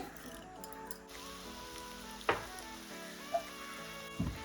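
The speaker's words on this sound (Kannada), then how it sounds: "ಇದನ್ನು ಈಗ ಒಗ್ಗರಣೆಗೆ ಹಾಕ್ತಿದ್ದೀನಿ" Quiet crackling sizzle of chillies and spices tempering in hot oil for raw mango chutney, with a few sharp pops and taps over a faint sustained tone.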